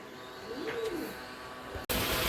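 Breeding Madras pigeons in a loft coo softly while being fed grain, a low wavering coo rising and falling mid-clip over steady background noise, then a sudden louder burst near the end.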